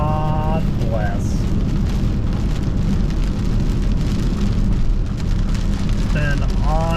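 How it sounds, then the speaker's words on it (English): Steady rain drums on a car in the mountains, a dense wash of patter and road noise filling the whole stretch, with brief whistling tones near the start and end. "Just driving through some rain in the mountains."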